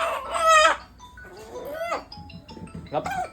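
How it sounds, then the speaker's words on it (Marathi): A village country rooster being weighed for sale clucks and crows in short bursts close by, with a loud call at the start and rougher squawks after. "कोंबडा"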